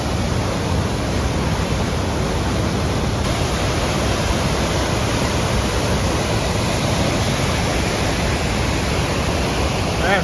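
A river rushes steadily and loudly in Wells Gray Park, a constant broadband wash with no pauses or other sounds.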